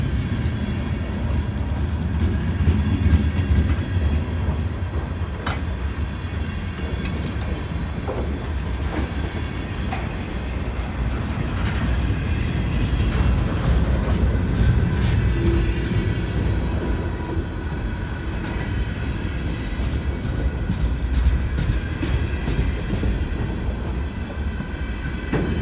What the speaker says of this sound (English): There's got to be a DPU on this train.